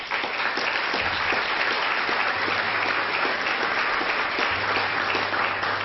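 Audience at an Elizabeth Warren talk on finance and bank regulation applauding, a dense, even wash of many hands clapping that holds steady throughout without voices.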